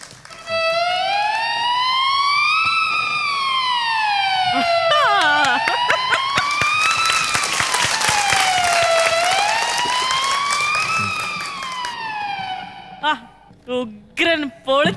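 Violin and flute imitate a fire engine siren, a loud slow wail sweeping up and down twice, with applause and crowd noise swelling in the middle and short bursts of sound as it ends.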